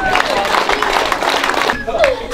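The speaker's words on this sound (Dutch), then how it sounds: "Applaus!" A crowd at a sports club's annual club day claps and cheers for the under-11 youth squad chosen as team of the year, with steady applause and excited voices and chatter mixed in.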